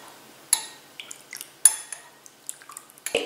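A spoon stirs a turmeric drink with ground black pepper in a cup, making a few sharp, irregular clinks against the sides with quiet pauses between.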